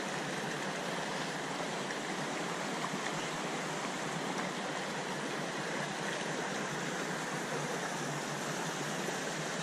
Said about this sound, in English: get a wee quick look at the waterfalls up here